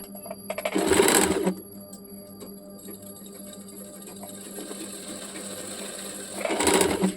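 A sewing machine stitching lace pleats onto a baby umbrella frock runs in two loud, close bursts, one near the start and one at the end, with quiet handling in between.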